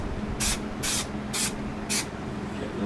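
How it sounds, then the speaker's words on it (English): Spray foam insulation hisses out of an aerosol can in four short, loud bursts with brief pauses between, during interior work on a building, with no talking. "I'm gonna go through and I'm gonna spray just a little bit"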